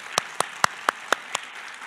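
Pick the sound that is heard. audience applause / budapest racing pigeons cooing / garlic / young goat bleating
audience applause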